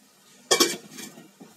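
A metal lid clanks onto a cooking pot on a home kitchen stove. There is one sharp clatter with a short ring, then a softer follow-up clink and a small tap.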